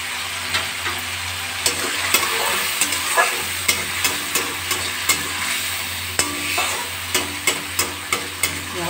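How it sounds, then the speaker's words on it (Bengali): Spice paste mixed with water fries in hot oil over a gas flame with green chillies, giving a continuous sizzle broken by repeated scraping stirs of a spatula in the pan. No voices are heard. "এই মশলাটা আমি এবার ছেড়ে দেবো, দিয়ে দেবো। গ্যাসের ফ্লেমটা আমি এবার বাড়িয়ে দেবো।"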